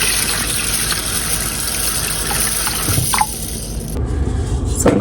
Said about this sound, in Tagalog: lagyan ko ng maraming tubig